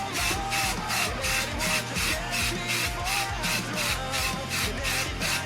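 Filter oil is sprayed onto a K&N drop-in air filter for a 10th-generation Honda Civic, making a steady, close hissing spray that pulses in an even rhythm under a constant background hum.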